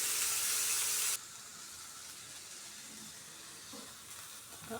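Onions for a samosa filling fry in a pan, a bright loud sizzle that drops after about a second to a quieter steady hiss with faint occasional clinks.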